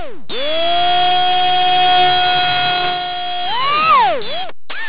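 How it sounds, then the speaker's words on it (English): Loud electronic whine of a drill motor's interference picked up by a detector, a steady buzzing tone with harmonics that bends and warbles near the end. "A drill motor creates a ton of interference"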